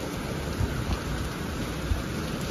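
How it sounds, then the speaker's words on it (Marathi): Heavy monsoon rain falling steadily outdoors, a constant dense hiss with a few soft thumps, fairly faint and uninterrupted, with no voices. "आमच्याकडे कसला मुसळधार पाऊस पडायला चालू आहे"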